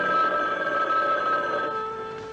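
An old telephone bell rings in a slasher film TV commercial, one sustained, bright ringing tone holding steady and then fading as it trails off, with no voices.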